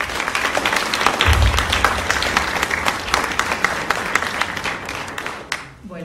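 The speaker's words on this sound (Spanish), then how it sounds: "le damos un fuerte aplauso" Sustained audience applause at a conference inauguration, dense steady clapping filling the room for several seconds before tapering off at the end, with no voices heard over it.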